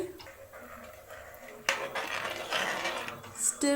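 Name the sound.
adding soaked basmati rice to pressure cooker and stirring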